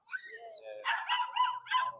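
A young German Shepherd dog yips and barks at a pet market in a quick excited run of high, sharp calls, close by and fairly loud.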